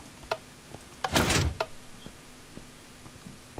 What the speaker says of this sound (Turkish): bir yerden kapı açılıyor